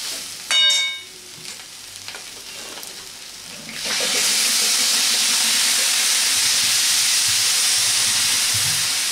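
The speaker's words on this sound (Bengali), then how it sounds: "এবার দিয়ে দিচ্ছি জল। জল দিয়ে ভালো করে সব কিছু একসাথে কষিয়ে নেব।" Water poured into spiced soybean and potato curry in a hot pan, with a sharp metallic clink and light stirring first, then a sudden loud, steady hissing steam sizzle that keeps going.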